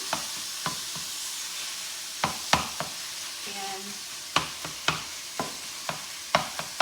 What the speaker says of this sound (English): I'm gonna really just chop it up.